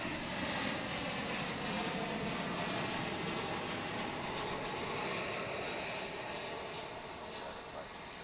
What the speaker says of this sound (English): Here comes American Airlines Flight 1034 from Guadalajara in Mexico.